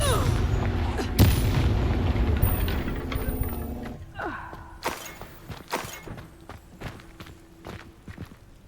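Confringo fire spell in Hogwarts Legacy: a heavy booming blast with a rumbling tail, followed by scattered thuds and clatter that fade out.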